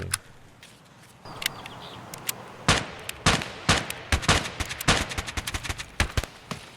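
Gunfire in Escape from Tarkov, a string of close, loud shots and short bursts with sharp cracks, irregular at first then coming rapidly in the second half, with no talking.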